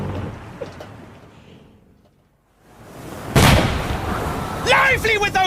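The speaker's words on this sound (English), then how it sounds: "How can a man sew a neat flap with all this jarring, bloody" A sudden heavy ship's cannon blast booms out after a quiet lull, its rumble lingering while shouting voices rise over the noise.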